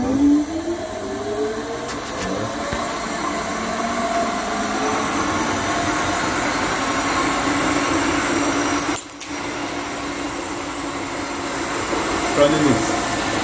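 A 2HP three-phase electric motor runs in a steady, loud, continuous hum with a whining tone that climbs at the start, while voices talk over it.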